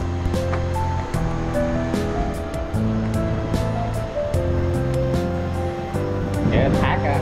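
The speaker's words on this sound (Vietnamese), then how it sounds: "Nghe thác á, nhìn đã." Voi waterfall near Da Lat rushing in a steady, loud roar of falling water, overlaid with sustained musical tones throughout.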